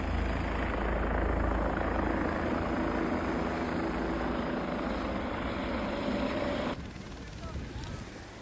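A helicopter near Guptkashi on the Kedarnath route thumps its rotor and roars its engine steadily, loud and close, then the noise drops off abruptly near the end.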